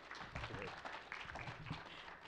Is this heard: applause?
yes